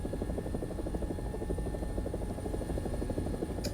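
Steady, loud engine whine and rapid rotor thump of an AB 205 helicopter in a video game, running continuously with no pauses and no voices over it.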